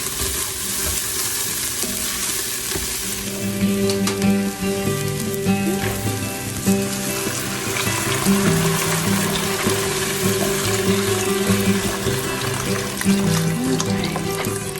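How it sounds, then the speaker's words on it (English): Broth poured into a soup pot of sizzling garlic for sausage, kale and white bean soup, a loud continuous frying hiss and liquid rush that stays steady and close throughout, with no talk. "we're going to go ahead and add the broth in now, and you can add the entire container at one time."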